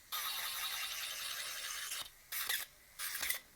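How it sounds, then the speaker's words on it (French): A nail file rasps across a cured gel fingernail, first in one long continuous scrape, then in two short separate strokes, close and fairly quiet. "Donc on passe notre lime partout."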